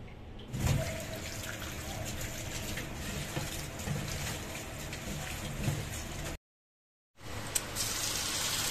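Steady broadband rush of falling rain, continuous and fairly close, with a brief silent gap near the end before the downpour resumes.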